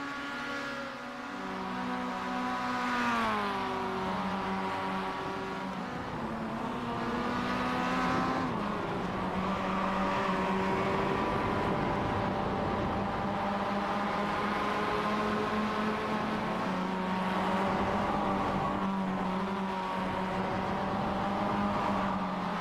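Race cars from a CORE Premier Series oval race roar around the track together, engines rising and falling in pitch as they pass, a steady loud drone of several cars lasting throughout with no talk.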